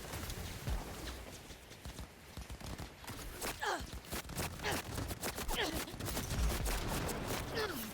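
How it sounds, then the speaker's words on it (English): Gunfire in Cyberpunk: repeated close shots and crackling bursts mixed with footsteps and game noise, steady and moderately loud throughout. "What the fuck is shooting me?"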